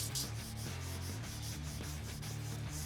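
Close, steady rhythmic strokes of sandpaper rubbing over wood coated in Rubio Monocoat finish, a continuous scratchy back-and-forth with no voices.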